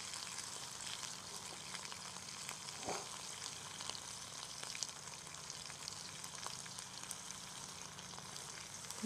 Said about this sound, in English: can hear it sizzling away down in there pretty good